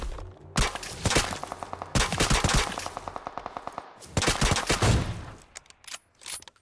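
Rapid automatic gunfire from a video game, with repeated machine-gun bursts and single shots, loud and close with brief pauses between volleys.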